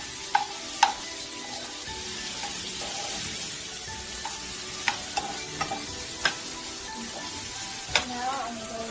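Onions lightly frying in olive oil give a steady, low sizzle, broken by a few sharp clicks and taps of stirring throughout.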